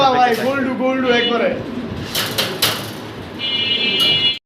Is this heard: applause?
no